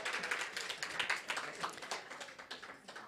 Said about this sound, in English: another round of applause for that powerful discussion and our incredible panelists